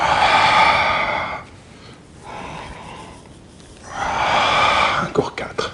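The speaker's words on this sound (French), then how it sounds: "J'inspire et je souffle." Deep audible breaths during an intermediate workout session, a long forceful exhale, a quieter middle stretch, then another strong breath out, close and loud, ending in a few sharp sniffs.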